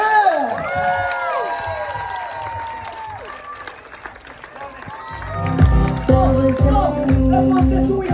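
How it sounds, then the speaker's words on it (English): Children shout and cheer at a kids' club show during a holiday animation event in Crete, then a crowd breaks into clapping and cheering over loud music, with excited voices throughout. "People, let's make a big applause for Mason from France."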